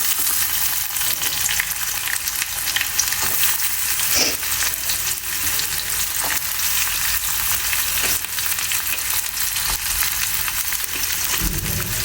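Chopped onion goes into hot oil with cumin in a small mini kadhai and fries with a steady, loud, dense sizzle and crackle that runs unbroken the whole time, with no talking.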